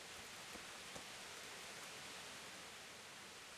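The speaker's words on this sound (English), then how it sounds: "now it's raining, nobody's outside" Steady rainfall in the medieval role-playing game Kingdom Come: Deliverance, a soft, even hiss of falling rain with a couple of faint drips, heard alone and quietly.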